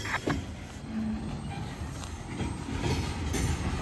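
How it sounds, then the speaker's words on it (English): An eastbound Union Pacific manifest freight train passes at Central Avenue, its tail end rolling by with continuous rumbling wheels, rhythmic clatter and brief metallic squeals, fairly loud and close. "And there goes the end of train number 5 of today at Central Avenue."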